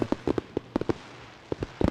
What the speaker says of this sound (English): You guys might hear the fireworks.